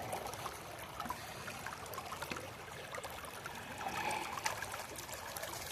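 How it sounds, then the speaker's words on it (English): A babbling brook flows steadily outdoors, a soft continuous trickle and gurgle of water heard at a moderate distance with no talking. "Hear the sounds, the babbling brook"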